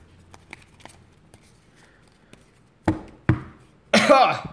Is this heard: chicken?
no